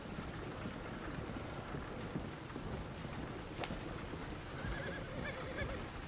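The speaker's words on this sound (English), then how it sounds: "I think the horse is getting skittish." A skittish horse whinnies faintly amid steady wash-like noise, with a short sharp knock partway through and hoof-like thuds under the rumble.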